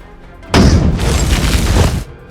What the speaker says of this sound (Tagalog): isang granada ang inihagis. Nagsimula ang unang pagsabog.